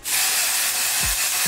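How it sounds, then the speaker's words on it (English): Lace spray hisses in one steady, close, continuous burst onto a bald cap during a wig install, loud from start to finish with no talking. "And I'm just gonna spray this onto my cap just to make it the same color as me."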